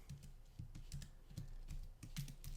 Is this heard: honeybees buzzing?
no